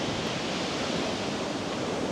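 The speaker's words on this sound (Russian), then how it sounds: "но вот у нас море волнуется раз" Rough sea waves at Yalta, Crimea make a continuous, even wash of surf, moderately loud and unbroken, with no voices.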